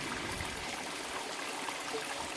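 Water drains out of a pipe shared by a bathtub and a barrel into an aquaponic grow bed, making a steady, close trickling splash that runs on without a break.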